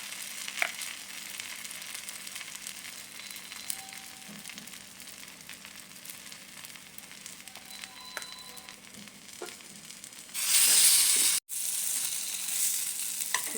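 Bread pieces deep-fry in hot oil with a steady, soft sizzle and occasional crackles and light clinks, swelling into a louder, brighter burst of frying near the end.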